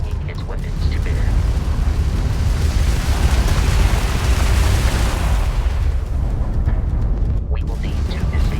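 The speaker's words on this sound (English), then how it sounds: "that's a Crimson Fleet ship bringing its weapons to bear" Crimson Fleet ship weapons firing in Starfield space combat: a loud, sustained roaring blast of energy and rumble that swells, then tapers off with a few pops near the end.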